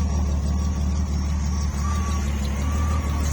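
A 1981 Chevrolet Citation X-11 idles steadily right after a cold start, its engine making a constant low, even rumble close by with a rusty exhaust, no voices over it.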